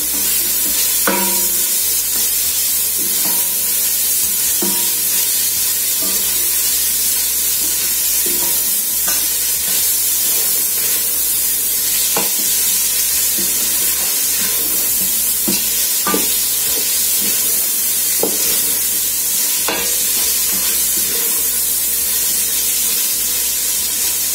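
Onions fry in oil in a pan for spaghetti carbonara with salmon, giving a continuous loud sizzle with occasional scrapes and clicks of stirring and no voices.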